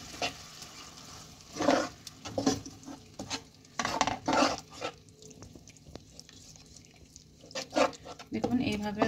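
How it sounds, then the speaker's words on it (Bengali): A spoon stirs yogurt into chicken in a pot, making a run of irregular scraping and clinking strokes against the metal, moderately close, with short pauses between them. "আমি টক দইটা ধীরে ধীরে এতে দিতে লাগবো আর সমানে নাড়তে থাকবো"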